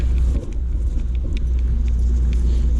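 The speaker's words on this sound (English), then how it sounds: "FedEx truck." A FedEx delivery truck passes near a park with an oilfield in Oklahoma, giving off a loud, close, steady low engine rumble that barely dips and carries on throughout.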